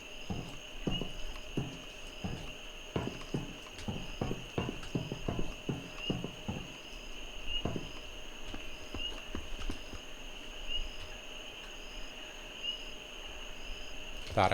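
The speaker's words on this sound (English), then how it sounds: "Thought I heard footsteps" Footsteps in a video game thud in a rhythmic series of close steps, then slow and stop, over a steady insect-like hum of crickets.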